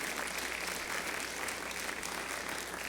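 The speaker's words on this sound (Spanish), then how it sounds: "Dale otro aplauso fuerte al Señor." A church congregation claps loudly and steadily for a few seconds, dense sustained applause from a large crowd with no talk over it.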